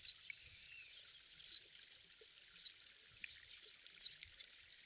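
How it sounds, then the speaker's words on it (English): Air bubbles escape from melting ice, a faint dense crackle of tiny high clicks and pops that runs steadily throughout, quiet and close, with no talk. "That is in fact the bubbles that is coming from the ice."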